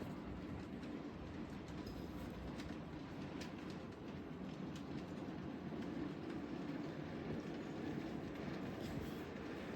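A model railway locomotive runs steadily around a layout's track, giving a continuous close rumble with faint clicks from the rails, and no voices are heard over it.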